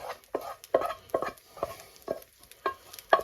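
Food scraped out of a frying pan with rice and carrots cooking, about eight sharp, evenly spaced metallic scrapes over a faint sizzle, close and clear.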